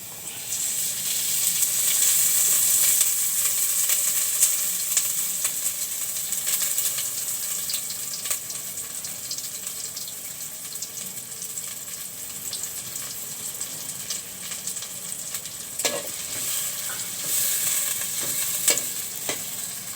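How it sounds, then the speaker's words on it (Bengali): Chopped onions frying in mustard oil in a pot give a continuous close sizzle and hiss, with occasional stirring scrapes and clinks breaking through, and no voices. "এখন আমি পেঁয়াজ কাটা দিয়ে দিচ্ছি দিয়ে দেব সরিষা তেল"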